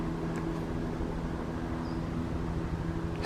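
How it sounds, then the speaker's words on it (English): A helicopter flies overhead in open Devon countryside with red deer stags nearby, giving a steady, low rotor drone that fills the whole stretch at a moderate, even level with no voices. "That helicopter is scaring them."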